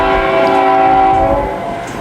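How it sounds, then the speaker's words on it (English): A coal train's horn sounds a loud, sustained multi-tone chord for about two seconds, steady and then tapering slightly, with faint rail rumble beneath. "I heard a coal train over there call out somewhere."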